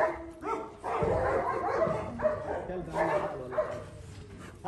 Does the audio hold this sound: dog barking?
yes